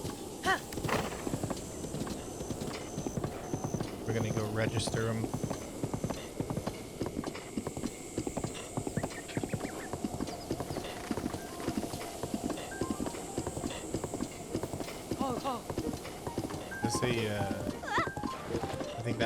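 Horse hooves clip-clop in a steady rapid rhythm in Zelda: Breath of the Wild, a game-world horse trotting along with faint tonal game sounds behind it. A person talks over the hoofbeats throughout.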